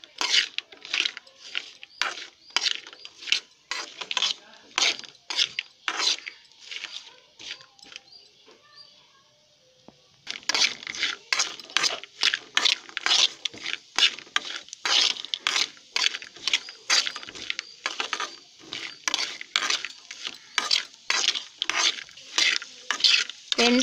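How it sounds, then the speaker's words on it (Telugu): Dry coconut pieces frying in ghee in a pan on the stove, with sharp rapid scraping and stirring clatter in quick bursts, a brief quieter sizzle midway, then vigorous stirring resumes, close and loud. "కట్ చేసిన ఎండు కొబ్బరి ముక్కలు వేసుకుందాం. స్టవ్ లో ఫ్లేమ్లో ఉంచి వీటిని ఇలా ఫ్రై అయ్యేంత వరకు ఫ్రై చేసుకుందాం."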